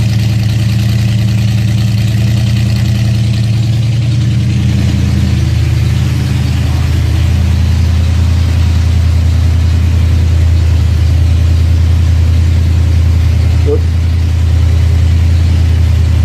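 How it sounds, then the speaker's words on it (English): A 1966 Ford truck engine idles with its exhaust note heard as a loud, steady, low rumble that runs unbroken the whole time, with no voices over it. "listen to that exhaust note."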